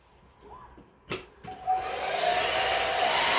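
A blow dryer drying hair clicks on and ramps up into a loud, steady rushing whoosh that holds to the end, following a few quiet handling sounds.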